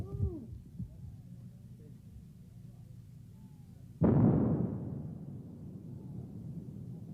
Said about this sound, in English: The rocket drags the line charge over the minefield, and it is detonated once it strikes the ground.